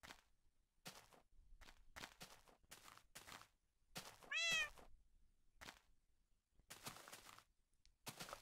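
Cat meowing in the Minecraft video game, with a series of short, sharp, separate meows spread across the stretch and a few brief thuds between them, heard alone without talk.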